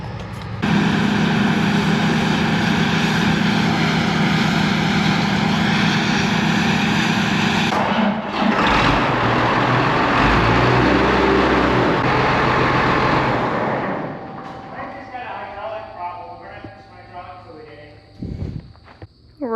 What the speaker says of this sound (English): I just barely got down here to the combine and Dad has started it up